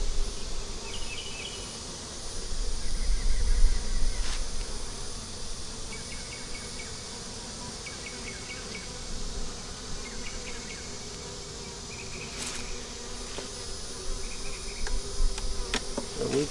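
Honeybees buzz steadily around an open, honey-bound three-deep, eight-frame hive, a dense continuous drone from many insects close by, with no talking.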